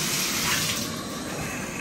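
Steady tap water pours from a household faucet, a continuous close broadband rush that holds even throughout with no voices.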